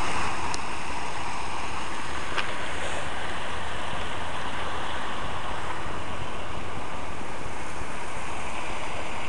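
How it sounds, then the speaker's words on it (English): A public water fountain in downtown Waukesha gives off a constant, close rushing splash of falling water, with no talk over it and a steady loudness throughout. "water fountain."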